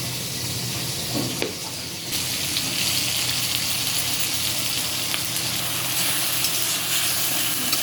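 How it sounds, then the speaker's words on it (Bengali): Ground ginger, cumin, chili and onion paste fries in a pan for a Bengali boroli fish curry with potato and eggplant, giving a steady, close sizzle with a brief sharp hiss as the paste hits the oil, no talking. "এবার বেটে রাখা মশলাটা দিয়ে দেবো। আদা বাটা, জিরে বাটা, লঙ্কা বাটা আর একটু পেঁয়াজ বাটা।"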